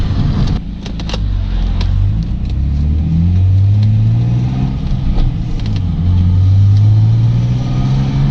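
A six-cylinder car engine accelerates and revs hard with the window open, loud and close, its pitch sweeping upward repeatedly through the gears as the drone swells and drops, with faint fuel pump whine beneath.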